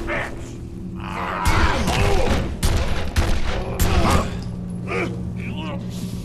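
Shotgun blasts and clattering impacts from the game Condemned, several loud bursts in quick succession over a low background hum, with someone talking through them.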